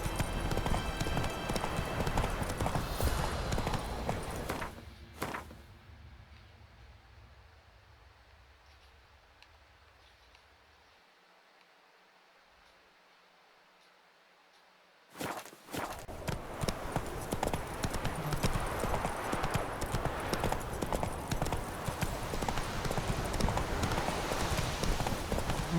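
Hooves of Roach, a horse in a video game, clip-clop at a steady running pace under loud game ambience, drop away into near silence for about ten seconds, then return at full strength.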